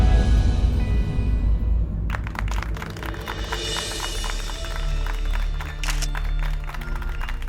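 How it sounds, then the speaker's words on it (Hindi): Applause from a police station team welcoming back an officer: a steady patter of clapping from a small group begins abruptly after two seconds and continues evenly, fairly close, with no talking over it. "आप ही के लिए ताली बज रहा है।"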